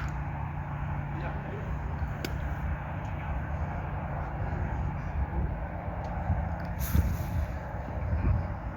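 A steady low engine roar of an airplane taking off in the Netherlands, heard from a distance with a person talking over it and a few clicks.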